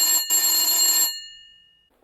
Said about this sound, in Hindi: तभी टेलीफोन बजता है।